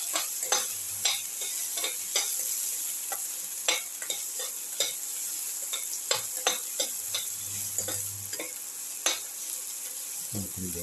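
Ingredients for a cumin egg potato roast sauté in a hot pan, a steady sizzle broken by frequent sharp scrapes and clicks of a stirring utensil, close and fairly loud, with no voices.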